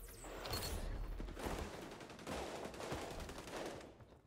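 Rapid gunfire from a Call of Duty match: bursts of close, loud shots crackle through most of the stretch, pausing briefly around the middle before another dense volley, with no talk over it.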